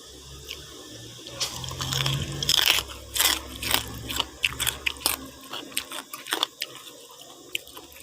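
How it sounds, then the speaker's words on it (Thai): Close, crunchy chewing of crispy pork crackling with irregular bites and crackles, some louder snaps, over a faint background rumble that fades partway through; no talking. "เดี๋ยวเคี้ยวให้ฟัง"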